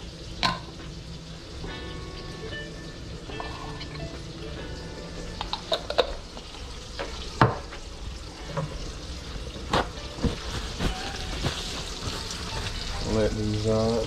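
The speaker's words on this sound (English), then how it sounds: "We're gonna add our marinated artichokes." Marinated artichokes hit a hot pan alongside mushrooms, raising a steady sizzle and frying crackle with scattered clinks and stirring scrapes, close and moderately loud, with a brief voice near the end.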